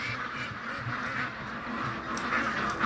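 Ducks kept on a farm quack in a continuous overlapping chorus, loud and close, blending into a dense, steady wall of calls with no talking.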